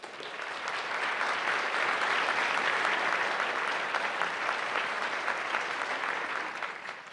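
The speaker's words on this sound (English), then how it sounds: "Please join me in a warm round of applause for all of them" A warm round of audience applause for sponsors at a civic club forum, swelling in from the start, holding a dense steady clapping texture, then tapering slightly at the end.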